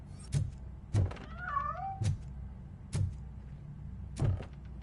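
A cat gives a single drawn-out, rising-and-falling meow amid a steady rhythm of heavy, close thumps spaced about a second apart; nobody speaks.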